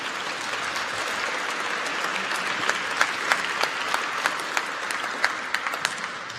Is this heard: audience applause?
yes